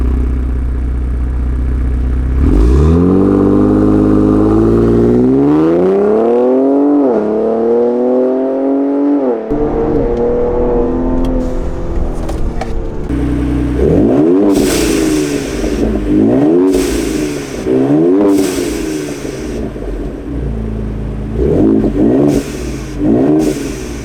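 A loud AWE sports exhaust on a Ford Explorer ST roars as the SUV accelerates hard, climbing through the revs, pausing at gear changes, then pulling again with crackling bursts.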